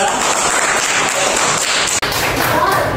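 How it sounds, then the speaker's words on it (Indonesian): Classmates clap for a student group after their presentation in an Indonesian classroom, a brisk crowded patter of hands with a brief dropout near the middle, voices faintly mixed in. "tepuk tangan buat kelompok 2"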